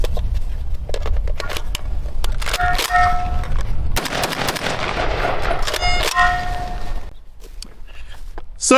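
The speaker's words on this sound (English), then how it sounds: "So, quite a bit of shooting in just a little bit of time." Shots from an Ohio Ordnance BAR rifle, a reproduction of a design over 100 years old, heard as loud rapid gunfire with ringing metallic echoes, fairly close, fading into quieter surroundings near the end.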